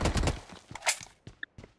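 Gunfire in a team deathmatch video game: a burst of rapid shots opens, then scattered single cracks and thuds follow at moderate distance.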